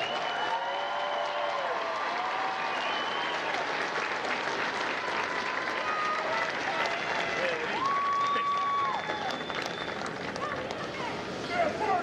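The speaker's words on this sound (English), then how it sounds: "please join me in a round of applause for the company staff of Kilo Company" A large crowd at a U.S. Marine recruit graduation ceremony in San Diego applauds in a long, even wash of clapping, with scattered cheers and voices running underneath the sustained sound.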